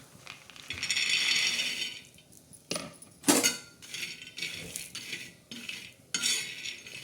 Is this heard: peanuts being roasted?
yes